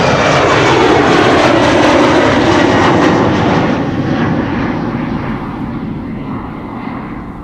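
A United airliner, flight 908 to Chicago, roars loudly on departure at Amsterdam Schiphol Airport, its jet engine noise filling the air and then slowly fading as it moves away.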